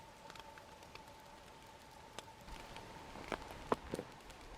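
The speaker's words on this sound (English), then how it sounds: "It's still dripping out of the trees, which is making it like rain on the tent." Meltwater dripping from winter trees onto a backpacking tent in snowy mountains, a faint steady patter like light rain with a few sharper louder drops near the end, no talking.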